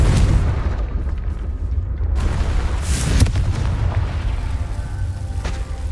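Fire-blast spell in the video game Hogwarts Legacy, heavy low booming bursts with crackling fiery tails, loud and close, one strong blast standing out midway.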